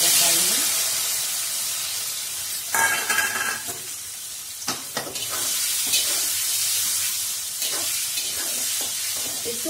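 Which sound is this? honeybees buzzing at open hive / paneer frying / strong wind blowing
paneer frying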